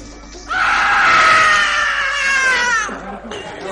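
A woman in a Spanish radio drama gives a long, loud, shrill scream of fright that rises and then trails off, close and alone.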